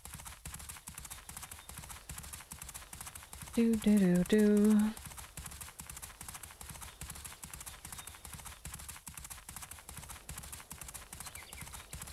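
Rhythmic clip-clop of horse hooves sounds steadily throughout the riding game Abenteuer auf dem Reiterhof 2, fairly soft and regular, with a brief spoken word partway through.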